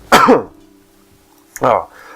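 A person coughs and clears their throat twice, close up, with a short quiet pause between the two harsh bursts.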